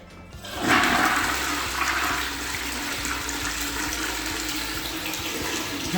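A newly fitted toilet flushes with a loud rush of water that starts just under a second in and settles into a steady gurgling refill, close by and with no talk over it.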